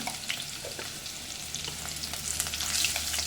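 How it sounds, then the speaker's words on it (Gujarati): Two green chillies and a pinch of asafoetida sauté in hot oil for Gujarati dal fry, a soft close sizzle with light stirring scrapes that grows a little louder toward the end, no talking. "2 લીલા મરચાં, બરાબર સરસ સોતે કરી લઈશું।"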